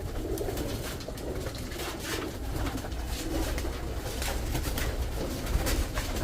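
Domestic pigeons coo repeatedly at close range, soft throaty calls overlapping in a steady murmur with light rustling behind them.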